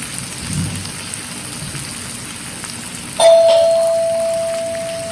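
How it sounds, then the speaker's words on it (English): An electronic doorbell chimes once, a clear sustained tone that rings out and slowly fades, over a quiet background hum. "Doorbell in my house, so we have to open the door."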